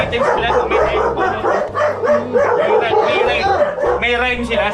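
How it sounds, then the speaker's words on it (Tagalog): A pack of dogs barks and yips all at once, loud and near, in a dense, continuous overlapping chorus with small whimpers mixed in. "May namang aso."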